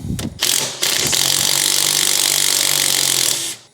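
Tool work on a heim joint from a Nissan 350Z angle kit, loosening its nut: a couple of short mechanical clicks, then a steady, loud whirring tool sound running for about three seconds before cutting off.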